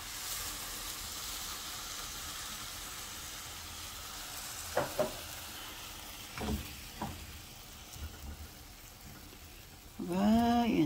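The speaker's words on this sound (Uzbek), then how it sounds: "Mana sut qaynayapti" Milk simmering in a pot with flour fried for mushroom soup, a steady low sizzling hiss throughout with a few soft clinks and scrapes, then a louder bubbling burst near the end.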